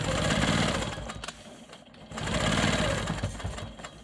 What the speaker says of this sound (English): So I'll quilt the next ruler work line over here, and then I'll go back and finish the top lines.